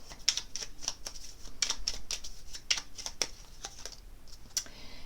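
A deck of oracle cards shuffled for a reading, quick papery riffles and taps in irregular close bursts, alone without talking.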